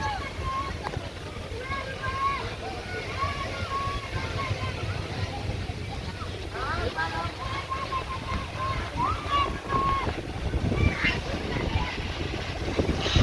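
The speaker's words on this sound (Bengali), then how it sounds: "প্রচণ্ড পরিমাণে বাতাস এবং ঢেউ আইতেছে" Steady, blustery wind buffets the microphone while waves on the Meghna River lap and churn, with a voice talking over the noise throughout.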